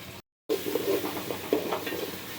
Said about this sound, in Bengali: এখন আমরা পরিমাণ মতন চিংড়ি দিয়ে নিচ্ছি।